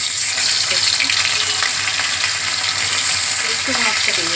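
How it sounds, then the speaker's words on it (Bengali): Katla fish pieces stirred with a spatula in a hot pan of oil, a loud, continuous, close sizzle with occasional scraping as the spatula moves. "এবার একটুখানি মাছটাকে একটু নেড়ে নেবো"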